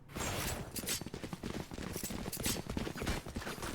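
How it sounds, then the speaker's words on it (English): A spray of gunfire in the video game Valorant during a collegiate esports match: rapid repeated shots in a dense, uneven burst that runs throughout, with no talking. "And the spray for good measure by Python."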